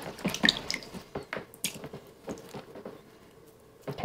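Wet felted wool balls are rinsed under water, giving soft, close dripping, splashing and squishing sounds in irregular bursts, fairly quiet with no talking.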